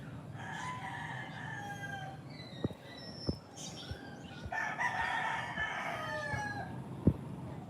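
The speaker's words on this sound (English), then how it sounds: "A lot of crowing." Roosters crow several times in overlapping calls, some nearer and some farther off, mixed with clucking fowl, sharp knocks and light background noise, and no one talks.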